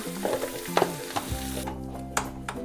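Sandwich filling being stirred in a vessel with two spoons of chutney paste and a pinch of black pepper, with repeated scraping and clinking strokes over a steady background hum.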